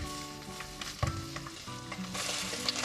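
Diced vegan sausages drop into hot oil in a pot and fry, giving a soft steady sizzle with a few light clinks and stirring scrapes, fairly quiet and with no voices.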